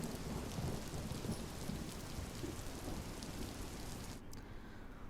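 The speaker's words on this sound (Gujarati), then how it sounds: "સતત 2 દિવસથી રાજુલા અને તેના ગ્રામ્ય પંથકોમાં વરસાદ વરસી રહ્યો છે" Rain falls over the rural Rajula area in Gujarat during a monsoon spell, a steady rushing hiss with rumbling thunder mixed in, before the sound thins and drops away near the end.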